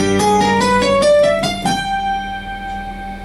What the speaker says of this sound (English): So that's why it's called the half-whole diminished scale.